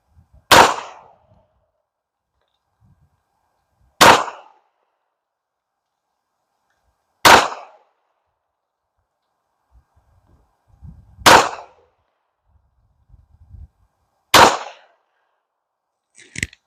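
Five sharp pistol shots from a Canik Rival firing Winchester Ranger ammunition ring out alone, spaced about three seconds apart, each loud and close with a short decaying tail, and near silence between them.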